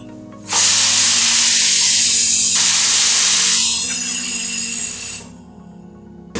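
A pressure cooker whistling as chicken stock cooks, one loud sustained steam hiss lasting about five seconds, close and dominant, with no talking.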